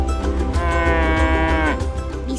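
Cattle at a fattening farm give a long, loud, close moo that rises and bends in pitch over a low farm background, with no talking.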